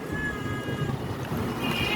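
Strong wind blows steadily and loudly outdoors near potted orchids, a continuous rushing roar with gusty low rumble throughout and no pauses.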